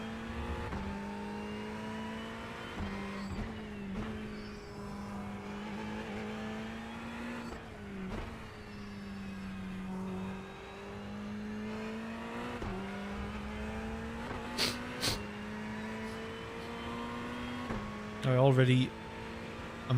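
A Ferrari race car engine in the iRacing sim drones steadily through a long run, its pitch rising and falling with shifts and a brief sharper burst near the end, while a voice talks over it throughout.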